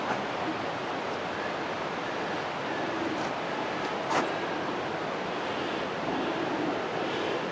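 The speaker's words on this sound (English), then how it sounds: "here's the overshot of the water wheel" Water pours over an overshot wheel at the ruins of an 1853 mill in Roswell, Georgia, giving a steady, loud broadband rush with no breaks, heavy like surf, close to the microphone.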